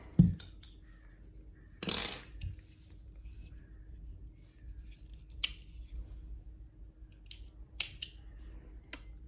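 Quiet scissor snips through yarn, a few sharp clicks of the blades closing spaced apart, close and soft, with light handling noise in between.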